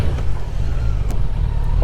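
A Kawasaki Z900 motorcycle ridden through a neighbourhood in Trappes, its engine a loud, steady close-up rumble with wind buffeting the mic throughout.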